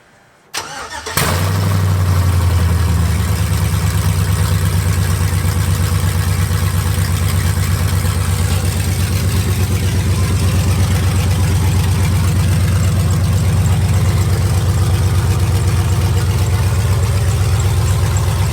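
An LS-swapped car with open headers cranks and fires after about a second, then settles into a very loud, deep, rumbling idle that stays steady and close.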